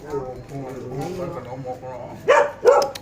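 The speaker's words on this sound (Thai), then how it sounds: "ธรรมดาละหมามเห็นคนมันก็เห่าเลย เห่าคนแปลกหน้าที" A dog at a Thai grandparents' home barks at strangers, two sharp barks near the end that rise over ongoing conversational talk.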